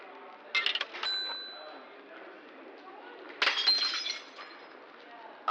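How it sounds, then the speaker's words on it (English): A glass bottle of milk knocked over in a store's beverage aisle, with two bright crashes of breaking glass and clinking shards set against a steady background hum. "A woman behind them in the beverage aisle had just knocked over a glass bottle of milk."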